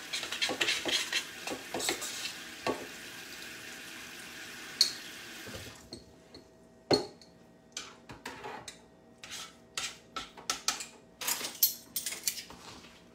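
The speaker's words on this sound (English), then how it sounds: "And I'm just going to stir that up." A spoon stirs a date squares mixture in a kitchen bowl, giving a run of close, irregular clinks and scrapes with a wet, sloshy edge, steady at first and then broken into separate sharp taps.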